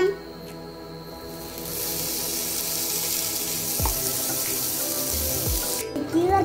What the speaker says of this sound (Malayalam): കുറച്ച് വെള്ളം ചേർത്ത് കൊടുത്തിട്ടുണ്ട്.